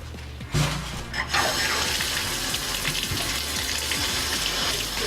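A steady, full gush of water pours from a tap into a sink, running continuously and close by with no talking.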